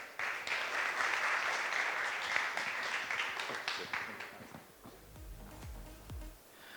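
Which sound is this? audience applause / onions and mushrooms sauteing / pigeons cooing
audience applause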